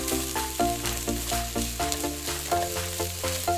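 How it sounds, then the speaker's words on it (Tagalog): Garlic and onion sauté in a pan with a steady, close sizzle and rhythmic stirring scrapes every half second or so, while music plays underneath and nobody speaks. "kailangan ng bawang igisa natin ng mahigi para mas masarap ang ating lulutuin"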